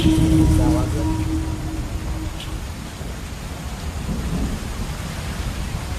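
Thunderstorm in an Amazon village: steady rain hisses with a low rumble of thunder, and a brief voice-like tone sounds near the start before the downpour carries on alone.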